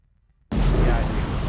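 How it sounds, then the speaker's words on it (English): A sudden loud explosion-like blast bursts in after half a second of near silence and rumbles on as a sustained, broadband roar with heavy low end. "Yeah, I heard the explosion too."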